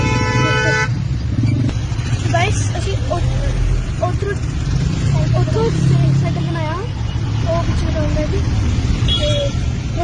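Busy road traffic flows past nearby, a constant rumble of cars and motorbikes with brief horn toots scattered through it, while someone talks over the noise.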